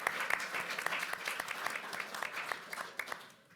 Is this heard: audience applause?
yes